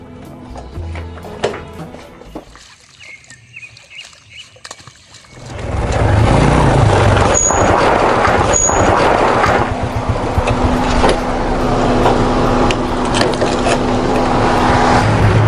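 A car pulling away, starting after a quiet gap with a rising engine and tire rumble that swells and holds loud and close.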